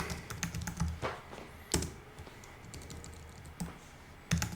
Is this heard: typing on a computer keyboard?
yes